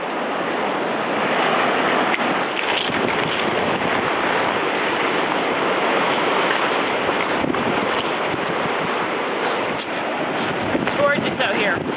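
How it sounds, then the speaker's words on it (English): Waves wash high up a Vancouver Island beach at high tide over boulders and driftwood, a loud continuous roar of surf mixed with wind buffeting the microphone throughout. "The waves push us high up the beach, over the boulders, and along the driftwood."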